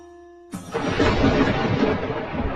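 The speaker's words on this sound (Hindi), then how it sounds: "ये बिना मौसम की गरजती हुई बारिश हमें क्या संकेत देती है?" Thunder from unseasonal rain breaks in suddenly after a faint steady hum, becoming a deep, sustained rolling rumble that stays loud to the end.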